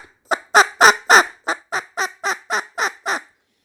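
Reed instrument playing short staccato clucking notes with heavy air bursts, about eleven honking, goose-like blasts in a quick, even row, close and fairly loud.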